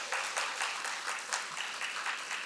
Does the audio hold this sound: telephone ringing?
no